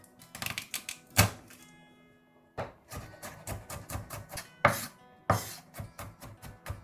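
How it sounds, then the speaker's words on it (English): A knife chopping garlic cloves on a board, quick clusters of sharp taps with short pauses between the runs, close and fairly quiet. "Mince 2 cloves of garlic."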